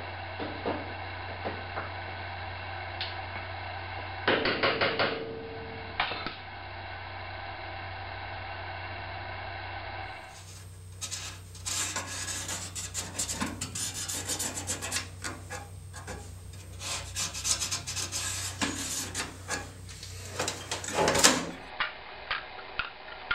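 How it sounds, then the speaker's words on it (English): An outer sheet metal panel is fitted into a car door pillar, with long stretches of rubbing and rasping metal-on-metal scraping, uneven bursts growing louder and busier midway, over a steady background hum. "I'm now going to mock the outer sheet metal piece into place"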